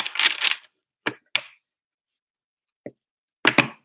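An oracle card deck being shuffled up close: a burst of riffling card noise, then a few sharp separate snaps and taps spaced out over the next few seconds, with a final quick double riffle.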